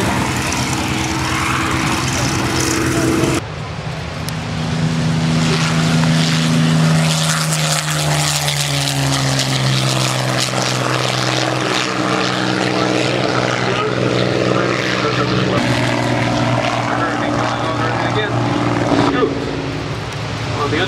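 The propeller engine of a 1943 Spitfire runs at a beach airshow as a loud, steady drone that shifts in pitch over about twenty seconds, with a voice heard over it.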